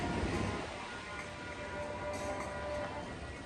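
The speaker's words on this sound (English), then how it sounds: "I think I hear the train." A train rolls past along the coastal rail line at the beach in San Clemente, California, a steady broad rumble holding for several seconds with a faint high tone, heard from a nearby bike path without talk.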